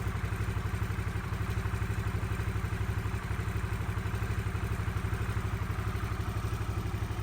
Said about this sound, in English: Here's some sound from the bike so you can hear it running